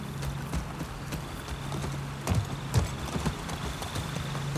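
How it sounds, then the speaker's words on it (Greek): Horse hooves clip-clop at an easy walking pace in The Last of Us Part II, steady soft thuds with a few louder strikes over a constant low background hum. "Το άλογο δεν φοβάται νερά, ξέρω εγώ."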